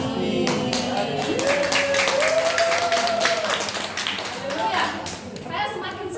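Audience clapping at a church fellowship gathering, a run of scattered close claps under a voice that speaks and sings over them.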